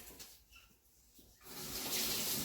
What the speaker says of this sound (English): Give it a rinse off here